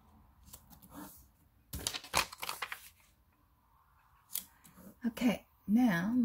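Scissors cutting strips of paper or craft material, a few crisp snips in short bursts, with talking in between and a louder rustle near the end.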